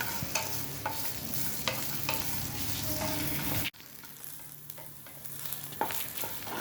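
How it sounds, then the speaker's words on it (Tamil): Coconut, cumin and dried red chillies sautéing in oil in a pan, a dense sizzle with rhythmic stirring scrapes, a sudden break midway and then a quieter, lighter frying hiss. "பேனில் எண்ணெய் ஊற்றி கொஞ்சம் தேங்காய் போட்டு, ஜீரகமும் போட்டு, வரமிளகா எல்லாத்தையும் போட்டு வதக்குறோம்"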